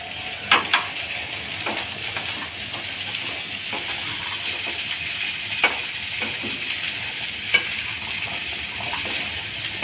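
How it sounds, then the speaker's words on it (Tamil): Ground masala sundal sautéing in coconut oil, a steady soft sizzle and hiss with occasional faint stirring scrapes and small pops, close by with no talking. "கொஞ்சம் ஒரு 2 நிமிஷம் வதங்கட்டும்."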